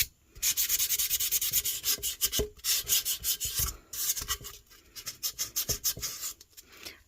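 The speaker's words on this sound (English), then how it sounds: "And I like to sand off the rim a little bit." Dried epoxy is sanded off the rim of a faux leather epoxy tumbler: quick, close, rhythmic rasping strokes in bursts with brief pauses between them.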